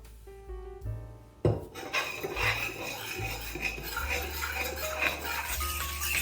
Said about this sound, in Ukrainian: Візьмемо ложку та перемішуємо